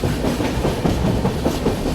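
A passenger train on the Konkan Railway, past Panvel, runs at high speed with a loud, dense rumble and steady clickety-clack of wheels heard from on board.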